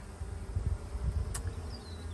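Honey bees humming around an opened backyard hive with the cover off, a low steady drone close by and moderately quiet, with a brief higher buzz of a single bee passing near.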